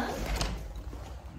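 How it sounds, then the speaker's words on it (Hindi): An indoor door is pushed fully shut in a home, giving a soft dull thud with a brief rattle, close and muffled, over a murmur of room noise. "दरवाजा फुल बंद कर दिया"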